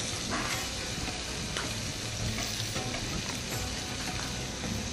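Meat fries in butter in a pan on a stove, a dense, loud, continuous sizzle with occasional stirring scrapes, close and steady throughout with no voice over it.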